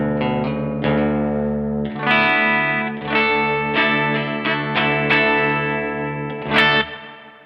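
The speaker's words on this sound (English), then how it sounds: "when you hear a distortion, that's a Proco Rat. The reverb is a Tone City Tiny Spring" Electric guitar chords on a kid-sized First Act guitar played through a ProCo Rat distortion pedal and a Tone City Tiny Spring reverb set very wet, each strum ringing out and decaying into a splashy tail.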